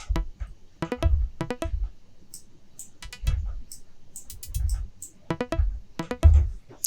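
Filtered dual saw wave synth with echo, playing short plucked melodic notes in a syncopated pattern, each note trailing into softer repeats over a low bass pulse.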